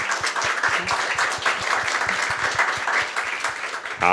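Audience applause welcoming young participants onstage at a youth participation forum, steady dense clapping from a crowd, fairly loud throughout with a brief tonal sound at the very end.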